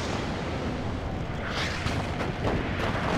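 Artillery barrage in the real-time strategy game WARNO, a continuous loud roar of overlapping distant booms and rumbling explosions with no talk over it.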